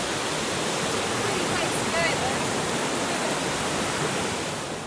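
A waterfall at Banlung in Ratanakiri, Cambodia, rushes as a loud, steady broadband roar that fills the whole clip with no pauses.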